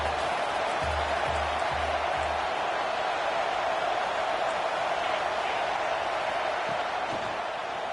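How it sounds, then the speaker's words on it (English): Broadband roar of a big stadium crowd at a college football game, steady and loud throughout as fans make noise for a red zone defensive stand, with no clear voices above it. "here comes the noise. This crowd is trying to inspire this defense to make a big red zone stop"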